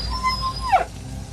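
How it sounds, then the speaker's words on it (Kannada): A dog lets out a short whimpering whine that slides downward in pitch near the end, heard close over faint background noise. "ನಾಯಿ."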